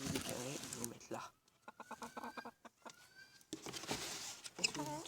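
Hens on a small French poultry farm clucking in short, uneven bursts in the middle stretch, moderately close. A person speaks before and after them.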